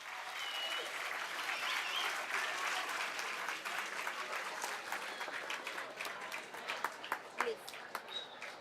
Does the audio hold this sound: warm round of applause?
yes